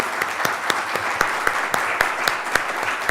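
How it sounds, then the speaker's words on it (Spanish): Applause during an online workshop on interdisciplinary education, heard as a close, steady run of sharp claps over a hissy background, evenly paced and moderately loud. "Pido un aplauso por el espacio, para ustedes también"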